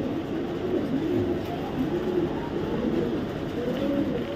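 Round-bodied racing pigeons coo softly in a loft, a low steady murmur of several birds running throughout at moderate level with no voices.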